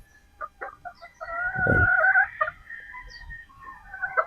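Pullet chickens cluck in short close bursts around a single loud drawn-out crow in the middle, with more clucking and faint farmyard noise after.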